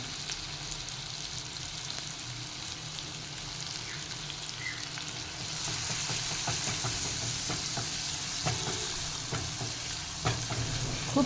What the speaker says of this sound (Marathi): कांदा थोडा गुलाबी रंगाचा होईपर्यंत परतायचा आहे आणि मग डब्बू मिरची घालून ती परतून घ्यायची आहे